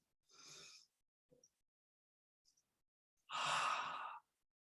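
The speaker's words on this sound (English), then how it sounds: "a big inhale and then a ha breath exhale through the mouth, making that ha sound for the count of 12" Two breathy mouth exhalations, a short one and then a longer, louder open-mouthed "ha" out-breath, with faint breaths and near-silence between them during a breathing exercise.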